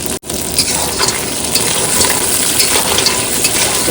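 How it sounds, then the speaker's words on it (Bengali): Crabs sizzle loudly in a hot pan as they are cooked on a boat in the Sundarbans in winter, a steady dense frying hiss after a brief clatter at the start, with no talking. "এবার কাঁকড়াগুলো দিয়ে দেবো"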